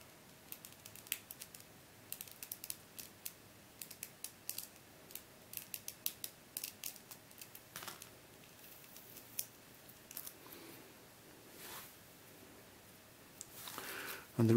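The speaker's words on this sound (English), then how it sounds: "I'm going to peel the stickers off this 2x2." Small stickers peeled off a 2x2 puzzle cube, giving faint, scattered crackles and sharp little ticks spread irregularly over a quiet background.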